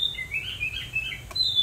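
A tamed songbird gives a run of bright, high chirps and short twittering notes, close and clear over a quiet background with no talking.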